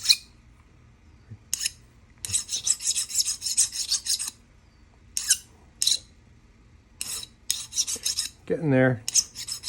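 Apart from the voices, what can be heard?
hand filing metal for a boxcar jaw harp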